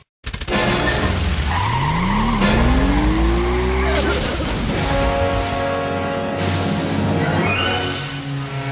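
A car in the adventure game Goodbye Deponia drives off loudly, its engine tone rising with revving and tire squeals, then settling into a sustained drone.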